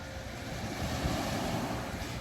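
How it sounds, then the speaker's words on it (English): Waves wash along the Puget Sound shore in a continuous broad rush of surf, loud and close, mixed with wind buffeting the microphone. "the water probably sounds really nice"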